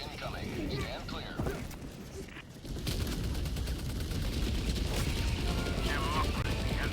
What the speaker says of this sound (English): Requesting orbital. Orbital barrage incoming.